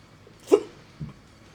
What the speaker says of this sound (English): Excuse me, I got hiccups.